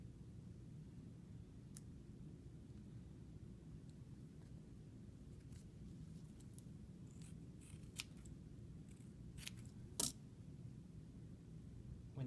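Scissors snipping through short arm cast material, a few scattered sharp clicks and snips over a steady low background rumble, fairly faint.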